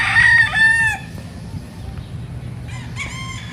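Roosters crow loudly on a farm in the Philippines, two drawn-out calls back to back at the start and a fainter crow near the end, with chickens clucking and farm noise underneath.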